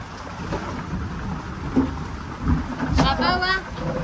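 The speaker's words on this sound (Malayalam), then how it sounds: "നല്ല മഴയുണ്ട് പുറത്ത്" Heavy rain falls steadily outdoors, a constant broadband wash with occasional louder surges; a brief voice-like tonal sound rises near the end over the rain.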